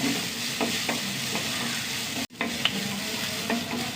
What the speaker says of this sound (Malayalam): ഉള്ളി വഴണ്ട് വന്നു